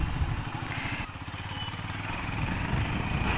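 A Honda CB350 motorcycle engine runs steadily close by, a continuous low rumble with a faint clattering texture that holds an even level throughout.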